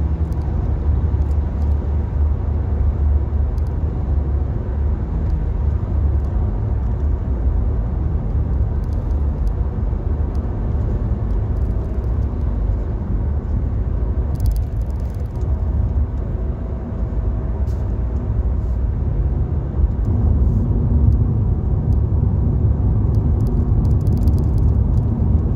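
Traffic on Batam Highway is heard from inside a car driving home on a rainy day as a continuous low road rumble with a steady tyre hum, and a few faint clicks rise above it.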